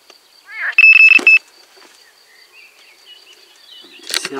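Electronic fishing bite alarm beeps sound in a quick cluster, loud and close, followed by quiet outdoor ambience and another short chirping burst near the end.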